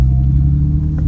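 A Porsche 991 Turbo S at a tuning event in Abu Dhabi accelerates, giving a loud, close, deep engine rumble that holds steady for about a second with no talk over it.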